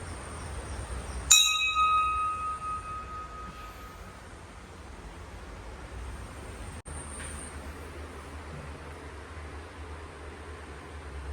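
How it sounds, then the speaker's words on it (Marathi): A single metal temple bell is struck once, sounding a bright ring that fades over a few seconds above a steady background hiss. "वाजव घंट्या"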